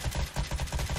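Sustained automatic gunfire mowing down zombies in the survival game Karantiin, evenly spaced rapid shots repeating steadily for about a second, moderately loud with no voices.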